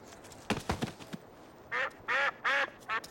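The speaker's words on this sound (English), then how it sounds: "Anas platyrhynchos." A mallard duck gives four loud, close quacks in quick succession, each a short nasal burst, after a few soft knocks and rustles at the start.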